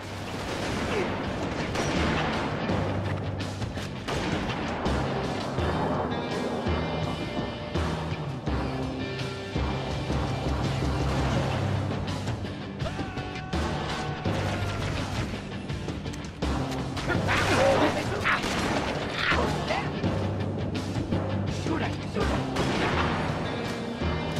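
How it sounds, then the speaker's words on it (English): Orchestral combat music from the video game Halo: Reach swells loudly with sustained strings and brass over pounding percussion, mixed with bursts of gunfire and explosions throughout. "Just listen to this music here for a second."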